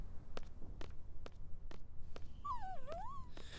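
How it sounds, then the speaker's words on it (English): A dog in Final Fantasy VIII gives a brief, wavering whimper amid a series of sharp, evenly spaced footsteps in a quiet setting. "The dog is pissed."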